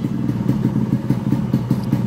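A Yamaha RX100 motorcycle idles nearby with a steady, even run of low pulsing strokes and light mechanical clatter, and no voices over it.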